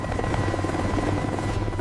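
A helicopter thrums close by, its rotor chopping in a fast steady pulse over a constant engine drone.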